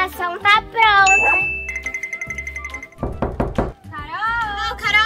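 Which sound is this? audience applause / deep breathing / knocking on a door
knocking on a door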